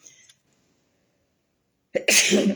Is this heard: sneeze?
yes